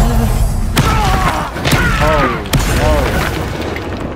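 A Confringo blast spell goes off in Hogwarts Legacy amid a goblin fight, heavy booming thuds with sharp impacts punctuating dense game-battle noise, while a voice talks over the action.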